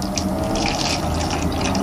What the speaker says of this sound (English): So yeah, let's go ahead and fill up our water.